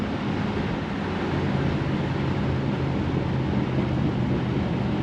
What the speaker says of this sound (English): Oh, listen to that exhaust rumble as you let off.